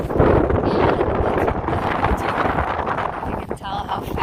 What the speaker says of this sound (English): Very windy right now, you guys.